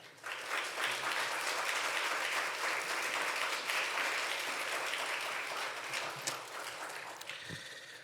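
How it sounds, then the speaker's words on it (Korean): A church congregation at an autumn revival service gives a long, full round of applause to welcome a pastor, the steady clapping continuing for several seconds before gradually thinning out near the end. "큰 박수로 환영해 주시면 감사하겠습니다"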